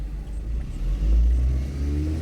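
A car engine revving during a driving exam in Ivano-Frankivsk, a loud low rumble that swells steadily as the throttle is applied, heard alone.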